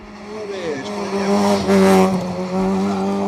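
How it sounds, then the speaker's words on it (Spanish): BMW E36 rally car on the start line of a rally stage at the 5th Rallye Mariña Lucense, its engine rising in revs as it launches, loud and close with a brief rough skid-like burst midway. "Dorsal 58, David Jacob y Pablo Besteiro con el E36 a punto de tomar la salida."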